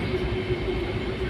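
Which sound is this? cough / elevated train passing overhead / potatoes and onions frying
elevated train passing overhead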